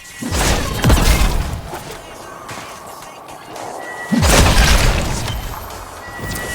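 Two loud booming explosions in the video game Warframe, one at the start and a second about four seconds later, each a broad crashing burst with rumbling debris trailing off, set against a dense sci-fi background.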